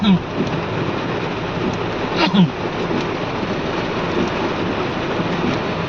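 Steady rain falls during a low-pressure storm, a constant wash of downpour with a brief rumble near the middle and faint voices underneath.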